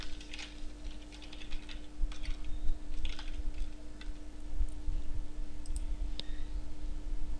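Computer mouse clicks and keyboard typing at a desk, quick close taps in irregular bursts that are loudest early on, with sparser single clicks later over a steady low electrical hum.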